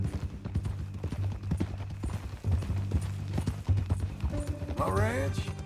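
Horse hooves clip-clop at a steady walking rhythm in Red Dead Redemption 2, close and moderate in volume beneath ongoing conversation between men, with a brief horse whinny near the end.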